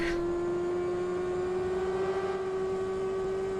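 Engine drone from a race car in the sim racing game Automobilista 2, a steady hum holding one pitch throughout at moderate level, with faint background noise and no revving.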